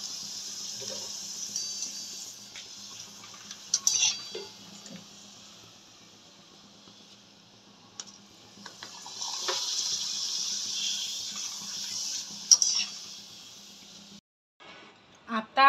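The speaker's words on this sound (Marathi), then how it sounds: "चला तर आता पापड तळून घेऊया." Urad dal papad fry in hot oil with a steady, hissing sizzle that swells and fades in long stretches, with small crackles and pops, a spoken voice in places, and a brief pause before the sizzle resumes.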